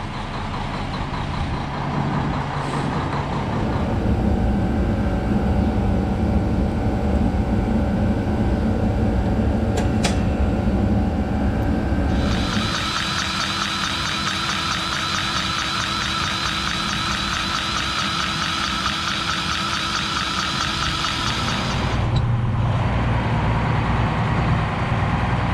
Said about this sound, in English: When I started it up, I fired it up to around 1200 RPMs.